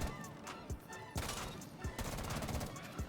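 Automatic weapon fire at a Rainbow Six Siege shooting range, rapid bursts of sharp game gunshots with brief pauses between strings, loud and close.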